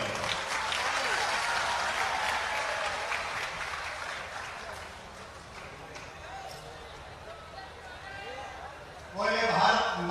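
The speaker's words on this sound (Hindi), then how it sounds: "जोरदार तालियों से आइए।" A crowd at a public statue-unveiling event in Hatpipliya applauds in welcome for the chief minister, a broad sustained clapping that gradually thins, then a sudden louder burst of voices near the end.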